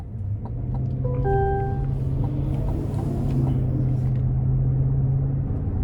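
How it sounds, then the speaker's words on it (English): 2024 Cadillac Escalade Sport Platinum cruising down the road, heard from the cabin as a steady low engine and road rumble with a faint hum, no talking over it. "you really don't even feel the need to give this too much throttle as you're going down the road"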